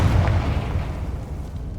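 The Confringo blasting spell from Hogwarts Legacy lands as a single deep, rumbling boom that starts loud and fades over about two seconds, with no talk.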